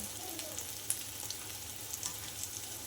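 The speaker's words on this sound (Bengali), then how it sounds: "দিয়ে আমি খুব ভালো করে আবার ভেজে নেব" Curry ingredients with turmeric frying in a pan, giving a continuous close sizzle with a few faint stirring clicks and no talking.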